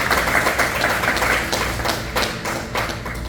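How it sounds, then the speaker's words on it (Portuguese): A church congregation applauds during a family worship service, a dense and steady wash of many hands clapping close by, with sharper individual claps standing out. "Quem pode aplaudir Jesus?"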